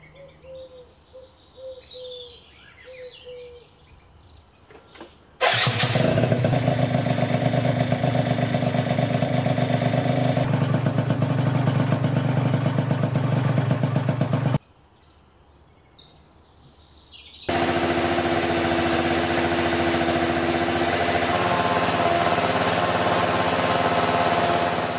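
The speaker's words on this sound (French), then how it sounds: "on va écouter du bruit de moteur" Birdsong at first, then a 70cc kitted scooter engine starts and runs loud and steady with a buzzing drone, cuts out briefly, then returns even louder and higher-pitched.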